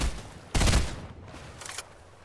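Gunfire in Fortnite: a sharp, loud burst of shots followed by a fainter second burst moments later, with quieter gaps between.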